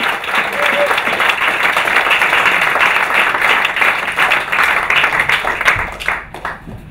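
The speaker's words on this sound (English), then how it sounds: "I really want you to all give them a really warm hand of applause" A room full of people at a startup demo day applauds warmly, producing a dense, sustained wash of clapping at close range that tapers off near the end.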